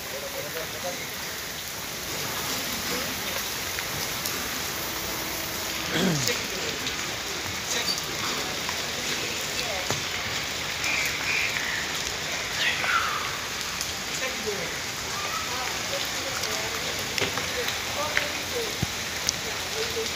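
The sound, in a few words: rain falling during a bike ride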